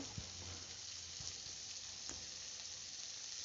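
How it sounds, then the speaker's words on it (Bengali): Spices frying in a pan with turmeric powder and red tomato in it, a faint, steady sizzle with occasional small pops and stirring scrapes, heard from a distance. "এই যে ভাজতে ভাজতে এবার দিয়ে দিচ্ছি এই যে হলুদ গুঁড়ো"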